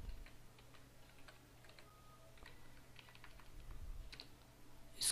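Text typed on a computer keyboard while working in Photoshop, faint scattered key taps at an uneven pace under a low steady room hum, with no talking.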